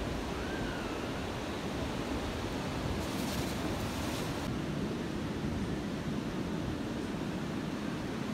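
Ocean surf at Praia do Satélite beach in Itanhaém, São Paulo, makes a continuous broad rush with wind buffeting the microphone. The wash of waves stays steady throughout, and no one speaks.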